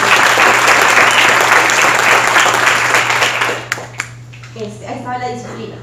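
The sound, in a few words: audience applause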